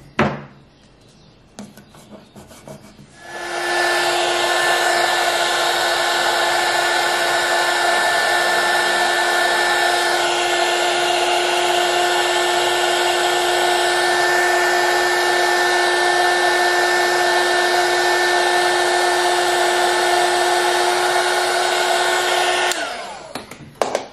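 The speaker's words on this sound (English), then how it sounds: "This is a heat gun, so I'm trying to stay away from the paint so that it doesn't bubble up" A heat gun dries chalk paint on a desk. After a few quiet seconds it switches on to a loud, steady blowing whine that holds for about twenty seconds, then cuts off.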